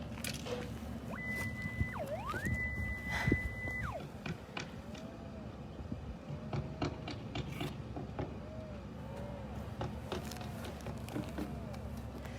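A utility line locator gives a high electronic tone that switches on and off a couple of times, then soft warbling beeps repeat faintly over a background of rustling and clatter.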